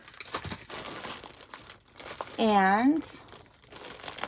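A small sticker is peeled and pressed onto a folded clothing package bound for a priority mail envelope, giving brief crinkly tearing rustles close by, with a voice speaking around them.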